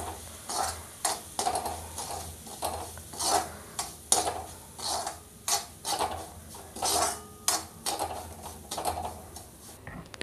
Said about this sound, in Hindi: तो यहाँ पे हम सूजी को इसमें डाल देते हैं और अब चला देते हैं इसको।